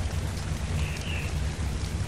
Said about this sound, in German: Regen!